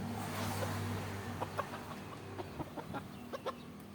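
A Thai fighting cock clucks in short, separate bursts at close range over a low background hum, with no voices.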